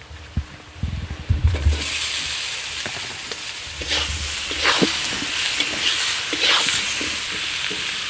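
Taro pieces fry in hot oil with chili and turmeric powder, a loud bursting sizzle and hiss after a few clattering knocks, with stirring scrapes as the spluttering rises and falls.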